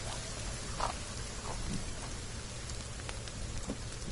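Steady rain falls in a forest, a broad even hiss with occasional louder drop taps, continuous and moderately close, with no talk.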